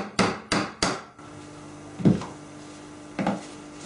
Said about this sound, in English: Now we have to remove the seal from the seal plate by turning it over, using a drift, just tap it out.